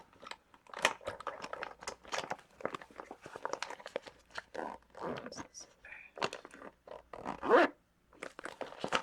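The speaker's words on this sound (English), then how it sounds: "What's the zipper?" A zipper on a makeup bag is worked in short bursts amid crinkly rummaging and handling sounds, with soft talking in between.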